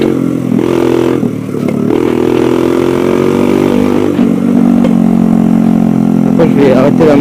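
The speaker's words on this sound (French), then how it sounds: "Après je vais arrêter la moto" A dirt bike engine runs close and loud, idling roughly and revving in uneven surges with a raspy, clattering tone, while someone talks over it.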